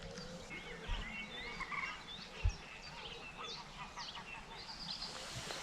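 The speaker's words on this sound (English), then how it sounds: "I can hear the birds." Birds call and chirp steadily by a lake at a caravan campsite on the River Breamish, with occasional honks and croaks amid soft background ambience.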